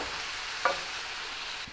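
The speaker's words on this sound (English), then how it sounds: "we gotta put the sausage back to cook it together" Sausage and peppers frying together in a pan, a steady close hiss of sizzling with one brief stir or scrape.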